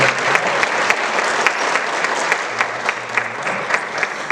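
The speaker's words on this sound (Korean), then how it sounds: "박수 한번 주시고" Church congregation applauding a newly introduced member during Sunday announcements; a steady patter of many hands clapping at moderate distance, continuous and even, with no talk over it.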